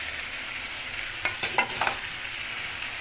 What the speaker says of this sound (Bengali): দেখেন কি সুন্দর মাংসটাকে কষিয়ে নিয়েছি